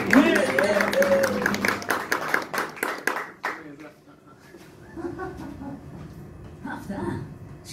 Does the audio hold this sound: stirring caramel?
no